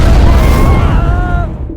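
A loud, booming explosion fills the clip with a deep rumble that slowly decays, with tonal ringing in the mix.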